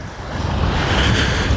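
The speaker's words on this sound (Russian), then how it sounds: "Ну и море." Sea waves roll onto a beach near Anapa, Blagoveshchenskaya, rising in a loud, close surge mixed with wind buffeting, with no voices.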